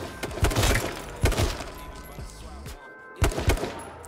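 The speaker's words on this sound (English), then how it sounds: "He's spamming nades, he's shooting silent shots" Video game combat with grenade spam and gunfire: repeated sharp blasts and bursts of shots, some loud and close, over a busy background of game noise.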